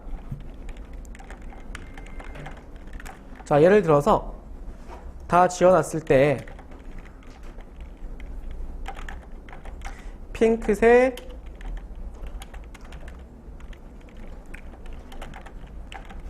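Rapid bursts of clacking on a computer keyboard, three separate runs of quick keystrokes with pauses between, while someone talks quietly at intervals.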